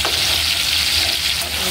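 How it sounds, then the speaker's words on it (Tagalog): Ground pork frying in a pan while being stirred, a loud, close, continuous sizzle with scraping stirs throughout. "Haluin po natin ito"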